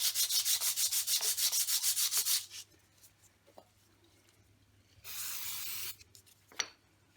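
Brake parts from an Africa Twin motorcycle are rubbed lightly across the grain to clear grit, a fast rhythmic scrubbing burst, then quiet, then a second shorter steady rub, close up.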